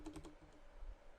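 A quick run of soft keystrokes on a computer keyboard while entering a name into a spreadsheet, a few close taps followed by faint room noise.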